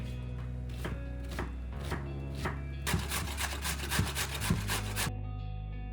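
Repeated knife chops on a board as an onion is finely chopped, then a faster stretch of rasping, scraping strokes as a carrot is grated, steady and close, with no talking.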